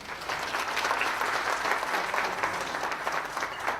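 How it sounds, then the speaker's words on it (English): Steady, dense applause from a conference audience for a dance academy's performance, a continuous wash of clapping with no gaps, fairly loud and close throughout. "A round of applause to them again."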